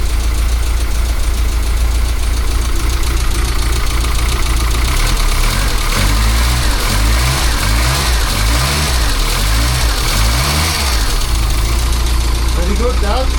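A small Austin Allegro car engine idles and revs steadily up close, with a light, even mechanical chatter like a sewing machine and a brief voice near the end.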